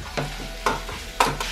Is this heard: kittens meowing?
no